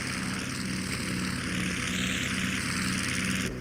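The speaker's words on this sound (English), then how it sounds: "sure is a lot of fun to keep these round engines running" Radial piston engines on a B-25 Mitchell warbird run with a loud, steady throbbing drone and propeller beat, close by and continuous, with no voices over it.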